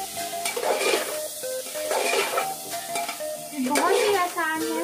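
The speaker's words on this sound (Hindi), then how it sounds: "इसको मिक्स कर देंगे।" A potato and tomato curry with garam masala stirred in a pan: a steady sizzle and frying hiss, with a spoon scraping and clinking against the pan in repeated strokes, loud and close.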